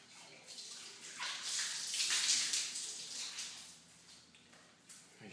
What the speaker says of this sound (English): I'm going to rinse the lid real quick.